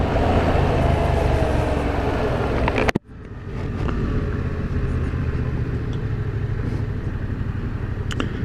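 A Yamaha MT07 motorcycle pulls away with a loud, close engine drone from the rider's position. It cuts out with a sharp dip near the three-second mark, then returns as steady riding rumble with wind noise.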